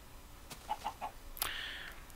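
A chicken in the Minecraft video game gives three short soft clucks followed by a sharper, higher squawk, fairly faint against quiet background hiss.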